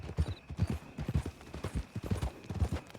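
Horse hooves clip-clop in Red Dead Redemption 2, a steady, close rhythm of firm hoofbeats at a walking pace, continuing without pause.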